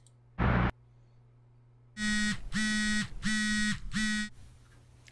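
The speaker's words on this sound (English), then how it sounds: "It's an alarm? I'm assuming it's an alarm." An alarm goes off in loud, harsh buzzing bursts, four in a row with short gaps, after a brief single blip at the start.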